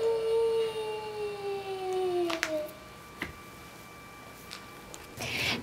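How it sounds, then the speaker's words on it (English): A children's sound board book plays a wolf howl, a thin electronic long rising-and-falling howl that slides down in pitch and fades out, followed by faint clicks and handling noises. "and a noisy wolf."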